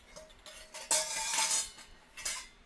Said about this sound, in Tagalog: mix ingredient with a spoon using a figure 8 or circular motion